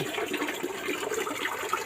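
Water tumbles steadily down a small garden waterfall beside a fish pond, a continuous close splashing wash with no pauses.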